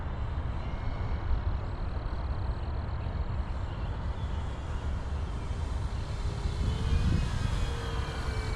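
RC warbird model airplane accelerating for takeoff, its engine a steady, close, buzzing drone that swells slightly toward the end.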